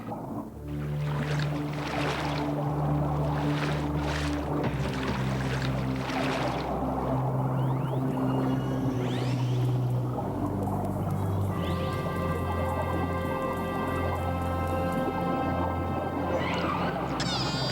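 Underwater, a young orca gives drawn-out tonal whistles and calls over a low boat-engine drone and bubbly water noise, near kelp.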